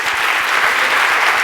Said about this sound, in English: on l'applaudit bien fort, bravo!